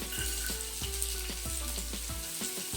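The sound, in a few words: garlic and ginger frying in oil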